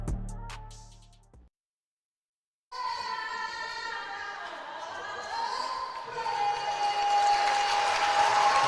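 Crowd at a high school basketball game at Kentucky State cheering and applauding after the national anthem; after a brief silence, sustained clapping and shouting swell and grow louder, with a steady tone ringing through the noise.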